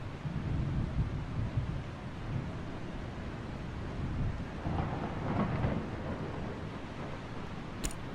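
A thunderstorm in the game Eastshade: steady low rumbling and rain noise roll on throughout, with a swell of thunder midway and a brief sharp crack near the end.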